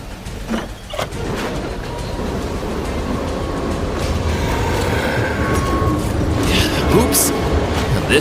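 Rumbling train movement in an animated setting, a steady low mechanical roar building slightly in loudness throughout, with faint clanks and a brief high squeal near the end.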